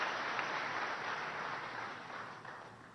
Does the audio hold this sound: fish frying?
no